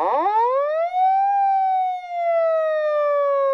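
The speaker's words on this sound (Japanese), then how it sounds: "このようにですね、赤色灯点灯とサイレンを鳴らすことによって緊急車両の走行" A Toyota Land Cruiser riot-police vehicle sounds its emergency siren, a loud, close electronic wail that sweeps rapidly upward, then holds and slowly falls in a long continuous tone with no talking.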